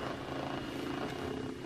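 Stock bass patch on a Serum synthesiser droning as a dense, buzzy sustained tone with a rumbling, engine-like texture, steady and moderately loud throughout with no voices.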